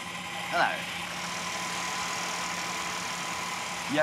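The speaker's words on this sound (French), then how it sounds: "Ça, c'est un petit moteur de laboratoire." A small laboratory motor vibrates plates of chocolate, giving a steady mid-pitched mechanical hum with a faint buzzing rattle that holds evenly throughout, with brief squeaks near the start and end.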